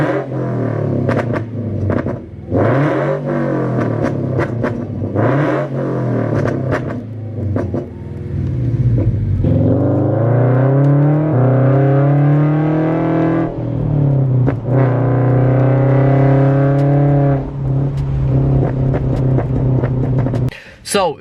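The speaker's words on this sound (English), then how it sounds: "I'm gonna go ahead and throw up a couple of exhaust clips of the car" Subaru FRS/BRZ/86 with an aftermarket exhaust, close and loud, blipping through several short revs before longer rising and falling pulls, the exhaust note rumbling throughout.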